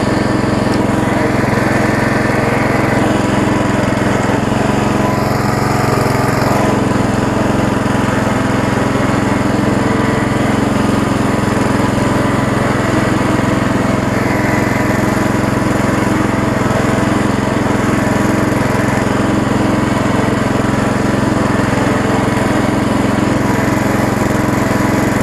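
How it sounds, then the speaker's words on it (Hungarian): A lawn mower tractor engine runs steadily while warming up after repair, a loud continuous drone with a constant hum and no speech. "Gyere, kicsit még melegedjen a motor."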